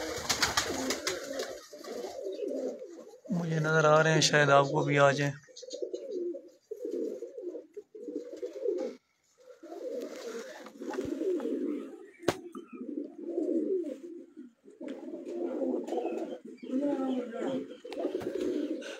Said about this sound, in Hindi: कबूतर शायद आपको नज़र आ जाए, चार कबूतर सामने निकले हुए हैं